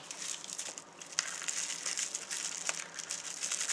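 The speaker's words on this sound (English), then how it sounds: "I'm going to take it out of the bubble wrap to show you." Bubble wrap being crinkled and pulled open around a small circuit board, with close, soft, continuous crackling and rustling.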